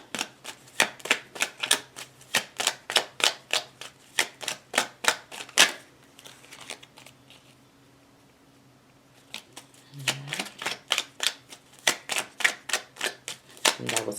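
Lenormand cards are shuffled by hand in a quick, regular series of crisp riffling snaps, close and fairly loud, pausing for a few seconds midway before resuming at the same steady rhythm.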